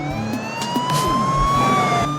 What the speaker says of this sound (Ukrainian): Так, я чогось думаю, що ця сирена це до нас.